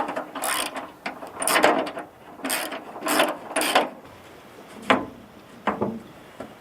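A hand ratchet tightening canopy bolts on a tractor, with repeated short bursts of close clicking strokes separated by brief pauses, alone and fairly quiet.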